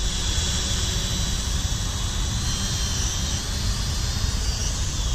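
An X8TW quadcopter camera drone hovering hands-off, a steady high-pitched rotor whine and buzz that holds constant and fairly close throughout, with no talking.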